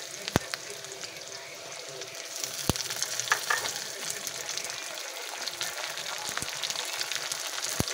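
Chopped tomato going into a pan of onions, dried and green chillies frying in oil, a steady close sizzle swelling slightly as it is added, with a few sharp clicks of the utensil against the pan.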